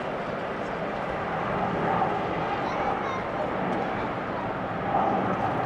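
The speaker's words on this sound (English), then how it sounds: "Applying the reversers as always." Airliner touching down at Amsterdam Schiphol and applying thrust reversers, a broad continuous roar that swells slightly near the end, heard from a distance with people talking over it and a dog barking briefly.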